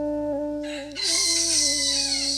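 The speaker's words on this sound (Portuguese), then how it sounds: "E o galo novamente" A rooster crows once, close and loud: a raspy, strained call that swells and holds for about a second and a half over a faint steady hum, with no talking.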